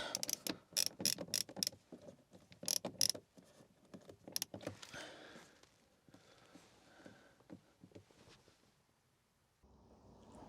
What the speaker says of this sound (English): Grab the screwdriver and then in we go.